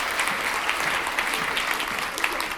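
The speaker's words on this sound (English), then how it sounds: "Let's give Dave a big round of applause." Steady round of audience applause at a live event, dense clapping from a sizable crowd sustained evenly throughout, fairly distant and without clear speech over it.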